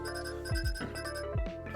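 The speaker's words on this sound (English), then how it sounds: "It's not a call, just an alarm." A phone alarm rings with a bright repeating chime in the Coffee Talk Tokyo video game, over steady background music with no speech.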